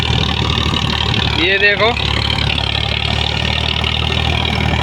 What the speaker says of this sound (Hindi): ये देखो किसान भाइयों घोड़े की तरह ट्रैक्टर दौड़ रहा है।